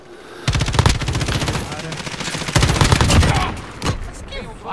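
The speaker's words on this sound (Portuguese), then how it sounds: "Estão atirando em mim!" Sustained automatic rifle fire in Call of Duty Modern Warfare multiplayer rattles in two long, loud, close bursts, then tapers into a few scattered shots.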